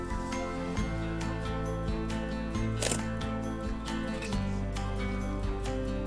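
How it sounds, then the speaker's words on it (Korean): A smartphone camera shutter fires once as a photo is taken in a mobile app, a single short click over steady background music. "직접 사진을 찍으려면 카메라 버튼을 탭합니다"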